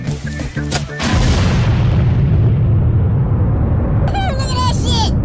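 A huge blast from fireworks and a gasoline fireball, one loud booming explosion after a short burst of noise, its roar sustained and rumbling for several seconds, with a brief whistling, shrieking tone near the end.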